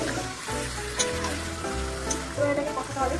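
Chicken pieces dropped into cooked-down spices in a hot pan for biryani give a steady, close sizzle and crackle with no talk over it.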